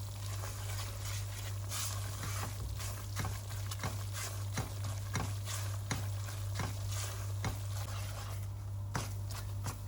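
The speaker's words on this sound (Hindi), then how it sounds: "सूजी को हम हल्का गोल्डन होने तक भूनेंगे" Semolina roasting in ghee over medium heat in a pan gives a steady, close sizzle, broken by regular scraping strokes of a spoon stirring it, with a low hum underneath throughout.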